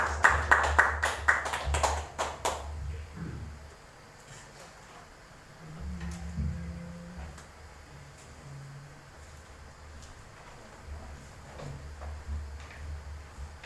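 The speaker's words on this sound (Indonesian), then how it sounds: "Beri tepuk tangan yang mulia buat Tuhan." Church congregation at an Indonesian worship service bursts into loud, dense clapping for a couple of seconds, then it fades into quieter hall ambience with scattered low murmurs.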